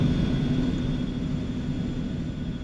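A steady, heavy drone of an Eclipse 550 jet engine in the X-Plane 11 flight simulator, a constant low rumble with a faint high whine and no talk.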